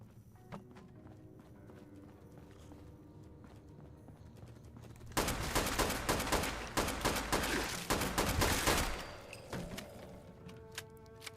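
Rapid bursts of gunfire from a Fallout 76 player shooting a squirrel, a dense loud volley of repeated shots lasting about four seconds after quieter ambient game sound, then fading back down.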